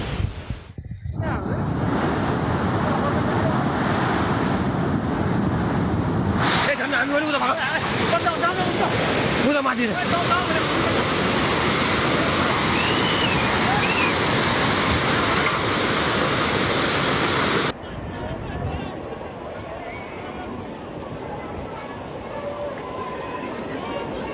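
A powerful roar of flash-flood water rushing down a mountain in Nepal fills the scene, loud and continuous like a torrent, with wind buffeting the microphone and distant shouting voices.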